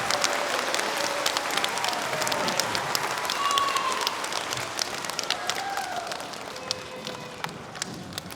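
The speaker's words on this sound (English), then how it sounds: "Let's give a round of applause to our little helpers here." Sustained applause from a school award assembly audience, dense steady clapping filling the room at an even level throughout, with scattered louder claps and faint voices underneath.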